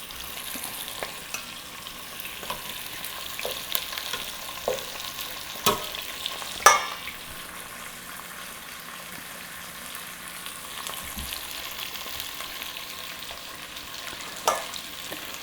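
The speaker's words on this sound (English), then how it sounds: "we're going to put the skin side down and start searing this off" Chicken pieces searing skin side down in a hot pan for braising, giving a steady close sizzle and crackle with scattered sharper pops throughout and no voices.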